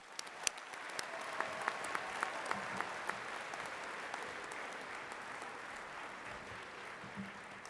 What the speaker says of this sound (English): a big round of applause for those who've gotten you here